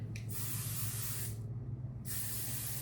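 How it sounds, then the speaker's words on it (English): Two bursts of Oribe Impermeable Anti-Humidity hair spray, a long hissing blast followed by a short pause and a second spray, close and steady. "I'm gonna go in with some anti-humidity spray."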